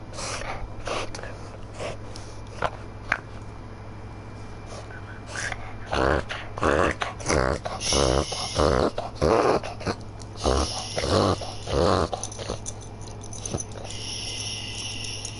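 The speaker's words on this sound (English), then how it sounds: "my dog just walked in here complaining" A dog indoors complains with low growls, snorts and whimpers, coming in irregular bursts that grow louder and busier midway, close by over a steady low hum.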